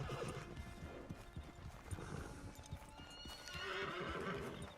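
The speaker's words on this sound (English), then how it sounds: "She kept rearing and neighing frantically" A horse in the Red Dead Online video game neighs and whinnies frantically while its hooves clip-clop steadily, close and fairly loud, with a second horse nearby on a desert trail toward Armadillo.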